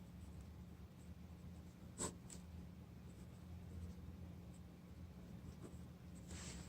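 A pen scratches out math equations in faint, intermittent strokes with small taps, close up over a low steady hum, with no voice.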